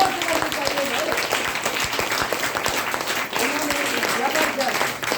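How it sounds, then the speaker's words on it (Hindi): A crowd at a lively indoor health program in Bhagwanpur breaks into steady, loud applause that fills the whole span, dense clapping with a few voices mixed in underneath. "जबरदस्त ताली करनी चाहिए, जोर से करनी चाहिए भाई"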